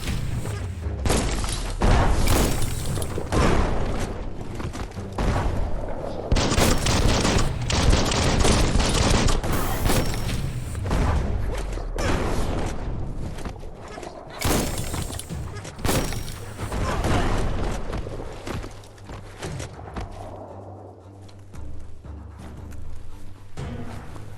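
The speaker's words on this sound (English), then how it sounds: "That's a bomb lobber." Bomb lobber enemies in the video game Biomutant set off repeated explosions, with dense bursts of booms, thuds and gunfire-like cracks hammering on loudly and almost without pause.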